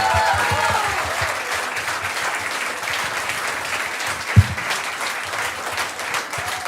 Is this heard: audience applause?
yes